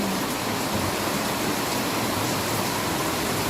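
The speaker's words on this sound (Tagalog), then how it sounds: "Malakas ang ulan dito sa Malaysia" Heavy rain in Malaysia pours down in a dense, loud, unbroken roar of broadband hiss, steady throughout with no voices.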